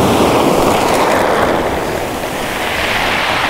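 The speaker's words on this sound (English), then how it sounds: "the waves breaking around them, the sea going out" Waves break and wash around rocks on a beach, a loud, continuous roar of surf close to the microphone, with wind buffeting throughout and no voices.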